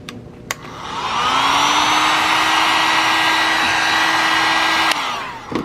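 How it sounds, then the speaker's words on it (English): A heat gun blows on an embroidered cap, switching on with a rising whine into a loud, steady airy roar for several seconds, close up, then cutting off. "I'm still gonna hit it with the heat gun"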